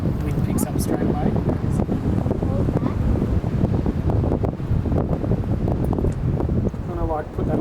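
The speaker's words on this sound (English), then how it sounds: "Wind picks up straight away." Wind gusts buffet the microphone at a clear-water seaside spot, a steady roar with rustling and possible surf beneath, loud throughout while people chat over it.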